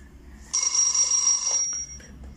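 An incoming call rings on a mobile phone in a busy waiting area, a single sustained electronic ringtone burst lasting about a second, fairly loud and close over a low background rumble.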